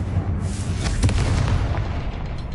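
Confringo fire spell blasts in Hogwarts Legacy, a loud booming explosion with a sharp burst near one second over a dense rumbling low-end roar that continues throughout.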